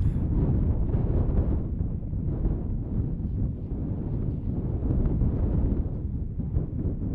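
Strong wind buffets a microphone outdoors during a Wyoming pronghorn hunt, a loud continuous low rumble that surges and dips throughout.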